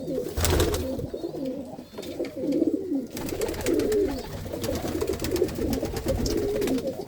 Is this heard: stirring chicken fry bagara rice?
no